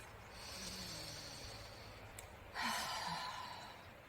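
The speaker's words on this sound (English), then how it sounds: "take a deep breath" One slow, deep breath drawn in and let out softly and close, an airy rush that swells near the end over quiet background hiss.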